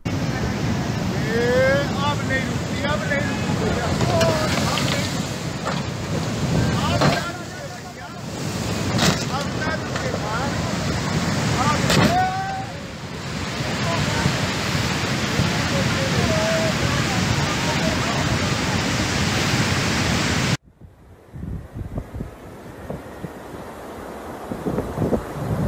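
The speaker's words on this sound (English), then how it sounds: "the floodwaters took it away." Fast, rough floodwater surges around a stranded bus and carries it off, a loud continuous broadband roar of rushing water and wind buffeting the microphone, with voices and shouts mixed in, ending abruptly in a quieter stretch.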